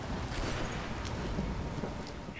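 A steady rain wash with low rumbling thunder in Rise of the Tomb Raider, a continuous hiss and patter with a soft distant roll underneath.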